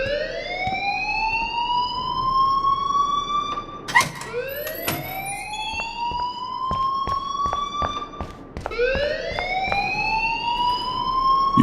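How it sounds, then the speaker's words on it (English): A shrill electronic alarm in the video game Life is Strange sweeps upward again and again in rising wails, with sharp clicks and taps scattered between the cycles and no voices over it. "please turn off that alarm since that's your job."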